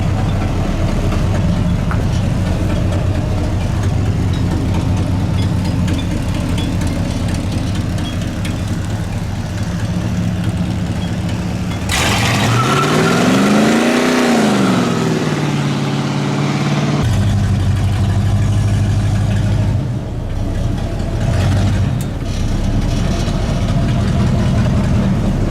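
Chevrolet C10 truck, budget build with a muffler under test, its engine running loud and steady in a burnout, a long rising-and-falling rev in the middle before settling back to a rough, low idle-like drone.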